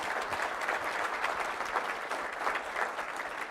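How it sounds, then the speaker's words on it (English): Steady applause from an audience at a mental wellness expo panel fills the space continuously, a dense, even clatter of many hands clapping at moderate distance. "Let's give them a round of applause"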